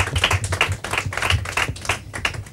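Live audience at a Portuguese quiz competition claps for the second-place team, a modest scattering of hands in quick uneven bursts, fairly close and moderate in volume.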